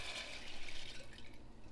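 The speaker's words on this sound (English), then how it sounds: "And I'm gonna add my beans." Soaked, rinsed beans tipped into a pot of chicken broth make a brief, close watery splash and trickle of liquid, with no voices.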